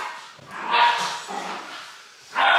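A dog at home gives a few short, faint barks and yips during play, with louder bursts at the start and end of the stretch and some background noise around them.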